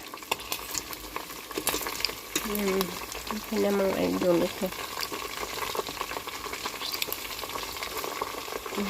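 Chicken thighs fry in a pan with a steady crackling sizzle, occasional stirring scrapes, and someone talking over it now and then.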